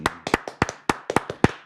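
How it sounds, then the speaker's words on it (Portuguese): Scattered, uneven hand claps from a small studio audience welcoming a guest onto a talk show, about a dozen separate sharp claps close by, no voices over them. "Estamos aqui recebendo com uma salva de palmas Vivi Brafman."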